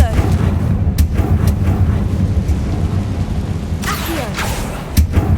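A Confringo blasting spell cast in Hogwarts Legacy gives a booming burst over steady game noise, with a few sharp thuds around it.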